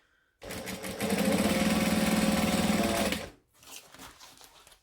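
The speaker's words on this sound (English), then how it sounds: "I'm going to top stitch 1/8 of an inch along this edge" Sewing machine top stitching along a bag edge runs in one steady close burst of about three seconds, a fast even whirring hum, then stops and is followed by quieter handling noise.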